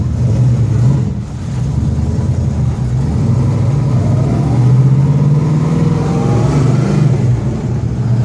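A 1971 Dodge Super Bee's engine drones steadily from inside the car on a test drive in building traffic, rising gradually in pitch as it accelerates, loud and continuous with road and cabin rumble underneath.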